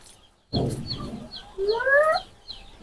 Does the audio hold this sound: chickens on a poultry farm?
yes